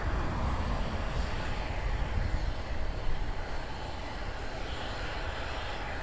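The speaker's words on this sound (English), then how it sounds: "Another Delta is taking off." A Delta airliner takes off at Los Angeles Airport, its jet engines giving a steady, broad roar that holds throughout at moderate distance, with no talk.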